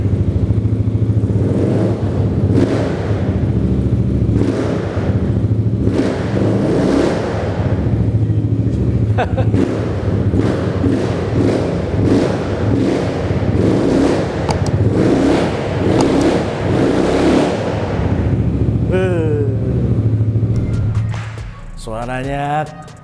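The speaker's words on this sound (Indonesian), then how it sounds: "sekarang kita tes gimana suaranya si X-Max Tracker ini" A Yamaha X-Max 250cc scooter in tracker style with a custom exhaust idles loud and close on its centre stand. It revs repeatedly in steady bursts for about twenty seconds before cutting off near the end.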